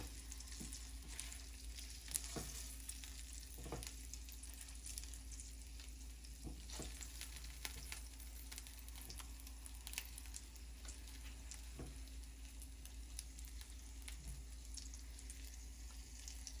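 Meatballs simmer in sauce in a crock pot after four hours of cooking, giving off quiet, steady bubbling with scattered soft pops and faint sizzle throughout.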